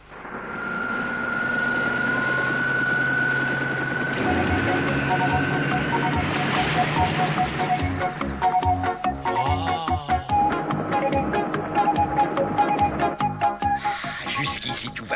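A cartoon aircraft takes off with a loud, steady engine hum that swells and shifts upward in pitch, running continuously while characters speak over it.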